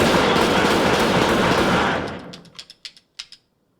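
Gunshots in the Pulp Fiction divine intervention scene: a dense roaring burst of rapid fire that cuts off, followed by a handful of sharp, separate clicking shots spaced out near the end.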